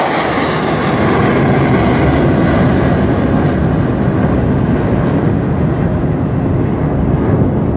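A loud, steady roar of a helicopter passing close overhead during a birthday exhibition in Singapore fills the whole stretch, fading slightly toward the end.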